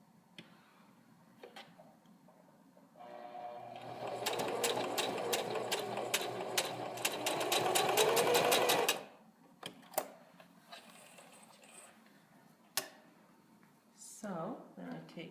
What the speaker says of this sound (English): And sew another 1/4 inch seam.